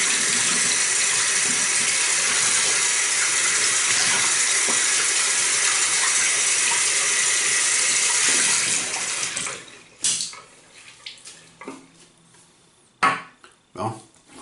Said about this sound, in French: Je vais rincer ma brosse